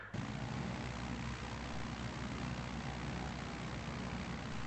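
A propeller plane in Microsoft Flight Simulator 2020 roars at full throttle on its takeoff run near Berlin's Fernsehturm TV Tower, a dense, steady engine drone that holds loud and unbroken throughout.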